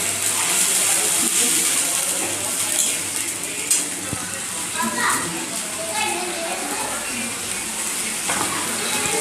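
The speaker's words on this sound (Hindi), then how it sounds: "और थोड़ी सी जो मसाले वाले पानी थे उसको हम डाल देंगे जो कटोरी में थी।" Spiced water from a bowl poured into a hot pan of paneer and chickpea masala, a loud hiss and sizzle with stirring clatter, under a voice talking.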